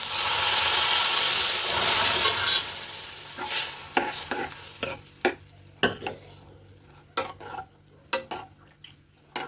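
Cooked, well-mashed green peas stirred in a pan, a loud sizzle at first that soon thins out, followed by a run of separate sharp scrapes and knocks of a spoon against the pan.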